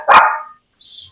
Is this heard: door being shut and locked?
no